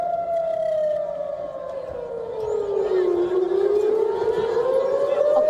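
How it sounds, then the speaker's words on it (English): Air raid sirens wail over Tel Aviv, one loud tone sliding slowly downward and then rising again, with fainter overlapping sirens behind it and a low steady background. "was interrupted by air raid sirens"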